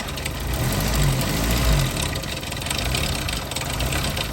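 An Opel Omega engine idles loudly up close, misfiring after a car wash, with an uneven, stumbling rhythm, its low rumble faltering and knocking rather than running smooth.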